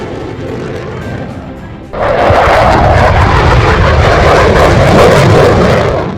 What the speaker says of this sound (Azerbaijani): müasir yüngül çəkili, istənilən hava şəraitinə uyğun gündüz və gecə rejimli GF-17C çox məqsədli döyüş təyyarəsidir